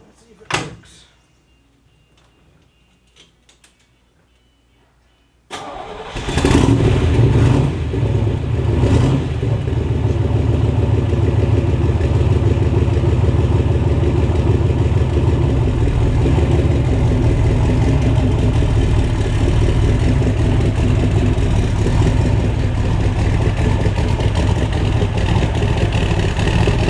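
A 1970 Corvette C3, primed with starter fluid after sitting, cranks briefly and then fires into a loud, steady rumbling idle that runs without a break for about twenty seconds after a few quiet clicks and handling noises.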